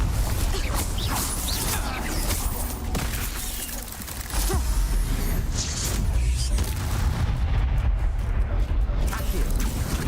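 Incendio fire spell cast in Hogwarts Legacy, repeated booming bursts of flame and crackling impacts layered into a loud, continuous roar, with a person's voice mixed in.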